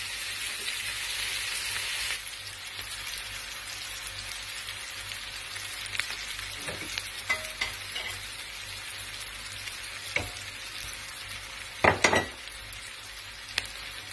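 Garlic and onions fry in a pan for shrimp with garlic, giving a steady, soft sizzle close by, with a few sharp clinks and scrapes of a utensil stirring toward the end.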